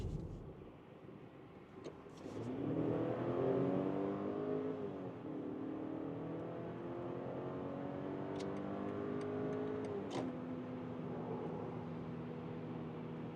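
A BMW X3 20 petrol SUV accelerating hard in sport mode, engine note rising through gears from inside the cabin, loud and steady with shift dips, no talk.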